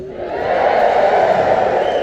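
A live audience at a stand-up comedy show cheers loudly. The roar of the crowd is sustained and swells steadily for about two seconds.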